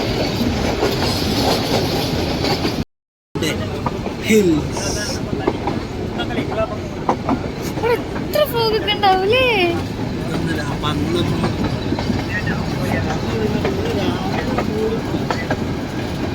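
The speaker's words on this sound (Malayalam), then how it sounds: "ഉച്ചക്കുള്ള ട്രെയിൻ പോകുന്നു അല്ലേ" The Ooty toy train rumbles along the rails with rhythmic clatter and brief wheel squeals, while people talk nearby over the steady roar.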